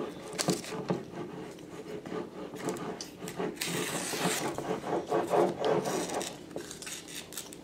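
An AEB-L steel utility knife blade being sharpened by hand, a series of close, repeated rasping scrapes in a steady back-and-forth rhythm with brief pauses between strokes.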